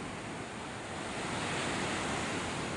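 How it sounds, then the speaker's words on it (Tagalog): Big waves roll in at the seashore with a broad, continuous roar of surf and water that swells louder toward the end, mixed with some wind rush. "Yan, kahit malaking alon"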